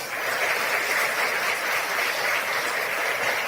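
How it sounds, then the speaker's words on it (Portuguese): A church congregation claps at the end of a worship service, a continuous even wash of applause, fairly loud and unbroken for the whole stretch. "Pode aplaudir a Jesus então."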